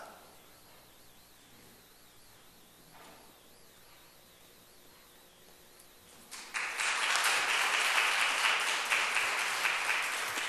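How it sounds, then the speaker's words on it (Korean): Applause from a church congregation during a service honouring a member who completed copying the Bible. A stretch of faint, quiet room tone comes first, then loud, dense clapping starts abruptly and continues to the end. "큰 박수 부탁드리겠습니다"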